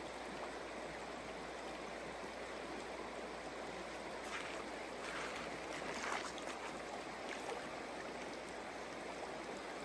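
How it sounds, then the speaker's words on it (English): Continuous rushing and splashing of the San Joaquin River at a trail crossing in the Sierra backcountry at dawn, a broad, steady wash of flowing water with small swells in splashing. "Dawn crossing the San Joaquin River."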